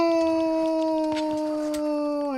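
A dog howls in the Monster Hunter Rise video game, one long, loud, sustained tonal note that holds steady before dropping off at the end.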